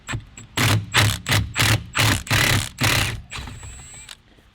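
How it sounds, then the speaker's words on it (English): Power tool backing Loctited clock spring bolts out of a Nissan 350z, heard as a close, loud, aggressive run of about eight rhythmic rattling pulses, followed by a thin high whine as the tool spins down. "These are also Loctited. That's why it sounds so aggressive coming out."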